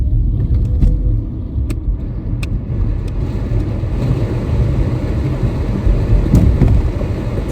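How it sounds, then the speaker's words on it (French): Ventilation fan of a Renault Twingo electric car running at full power inside the cabin, a loud steady broadband rush of air that is continuous throughout, with a few faint clicks on top. "la ventilation elle est un petit peu bruyante, je trouve. Alors je vais te la mettre à fond."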